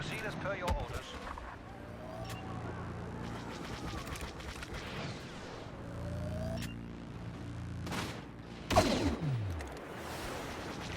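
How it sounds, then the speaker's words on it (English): Pulse cannon fire in the Star Wars Battlefront game: a steady run of sharp blaster shots and booming impacts over rumbling battle noise, with a louder blast near the end. "it makes me pretty happy to see all those pulse cannon shots connecting"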